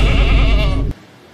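A person imitates a goat's bleat with one loud, wavering voiced bleat that lasts under a second and then stops abruptly.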